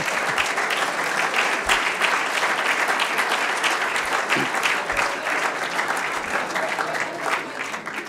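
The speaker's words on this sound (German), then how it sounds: "Applaus" Steady, loud applause from a large crowd, dense clapping sustained throughout without a break.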